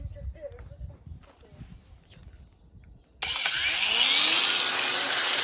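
A Parkside PWSAP 20-Li cordless angle grinder spins up sharply and starts cutting an old Soviet-era steel pipe, a loud, bright screech that follows a stretch of quiet talk and handling noise.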